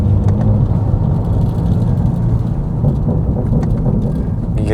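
A tuned performance car's intake roars loudly and steadily under full throttle in high gear, a continuous dense low rumble that stays up close and unbroken.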